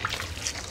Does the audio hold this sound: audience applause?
no